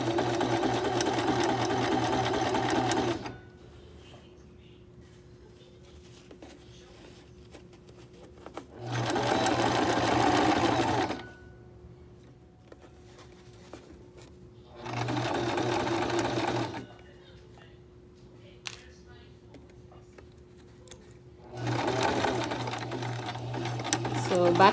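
A sewing machine backstitches over the elastic band of a homemade face mask, running in four loud, steady bursts of a few seconds each, separated by quieter pauses with a low background hum.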